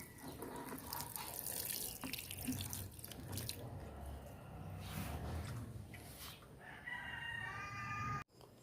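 Tap water runs briefly to rinse a freshly applied calcium nitrate and triple 14 fertilizer mix on young plants, a steady splashing wash with roosters crowing nearby, ending abruptly.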